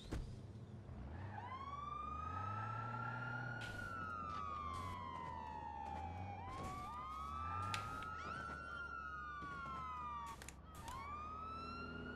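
Wailing ambulance siren in Watch Dogs 2 rises and falls in repeated sweeping cycles, loud and close, over a low engine drone with a few sharp clicks and bumps, no talk.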